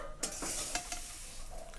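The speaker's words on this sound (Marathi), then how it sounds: "छान असा आवाज पण येते आणि एकदम कुरकुरीत असा शाबू चिवडा झालेला आहे" Sago chivda fries and is stirred in a kadhai, giving a close, crisp sizzle and rustle broken by several sharp scrapes of a spoon against the pan.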